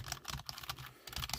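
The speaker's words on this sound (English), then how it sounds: "So then you'd set the keyboard down, you have your DS here, and you just type away." Fingers tap quickly on a small Pokemon keyboard accessory for the Nintendo DS, a run of light, close plastic key clicks in an uneven rhythm, quiet and alone.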